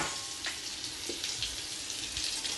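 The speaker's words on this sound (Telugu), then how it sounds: "బెండకాయలన్నీ ఇలా వేయించుకోవాలి." Okra pieces frying in a pan, a steady, close sizzling hiss with a few soft pops and scrapes, no talk over it.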